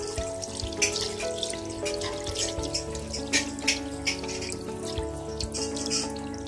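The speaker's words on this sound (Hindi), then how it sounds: "अब टपकाते हैं धीरे धीरे करके, बूंद बूंद बूंद से, और फिर तेज चला देते हैं हम नल" Tap water drips and then runs steadily onto a 2000 rupee banknote, a close, continuous splashing stream with no voices.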